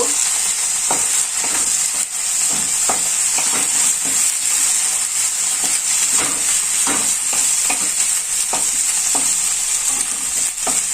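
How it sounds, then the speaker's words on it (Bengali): Ginger paste and garlic paste fry over medium heat in a pan, giving a loud, constant sizzle broken by regular scraping strokes of a spoon as the paste is stirred. "1 চামচ মতো রসুন বাটা। এটাকে আমি একটু কষিয়ে নেব।"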